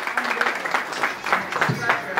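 An audience at a baby shower celebration claps in a dense, steady burst of applause, fairly close and moderately loud, with voices mixed in.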